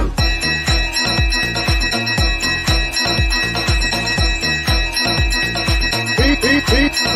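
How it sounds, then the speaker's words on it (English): A bell rings repeatedly in quick, loud strikes with ringing overtones, sounding steadily and close for several seconds, with no one speaking over it. "Ring the bell."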